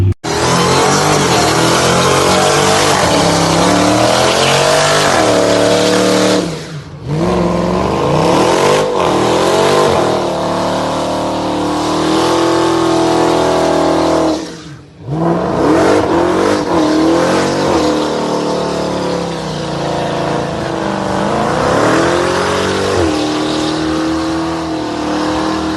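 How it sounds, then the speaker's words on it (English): A loud 2020 Dodge Charger SRT Hellcat engine revs and roars through its exhaust, with two sharp drops as the throttle lifts before it surges back, close and sustained. "The Hellcat's exhaust system produces a distinctive, aggressive sound"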